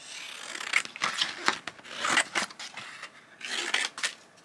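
Scissors cut through a piece of scrap gold card up close in a series of crisp, uneven snips and rustling slices, with no talking.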